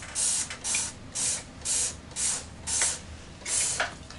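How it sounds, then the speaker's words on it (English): Power Wash cleaner sprayed from a trigger spray bottle in a kitchen, six or seven short hissing bursts in a steady rhythm, close and loud with no talking. "I'm just spraying some in there."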